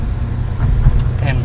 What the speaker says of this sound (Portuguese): Estamos a bordo de um belíssimo E36